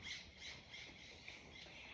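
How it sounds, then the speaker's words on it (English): Mountain jays give raspy squawking calls, a few harsh bursts rising over a steady faint outdoor hiss, fairly distant and with no talk. "those are the jays, the mountain jays"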